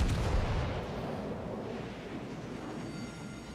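High-explosive shells fire in World of Warships, opening with a heavy booming blast that rolls off into a long fading rumble, fairly quiet overall and with no one talking.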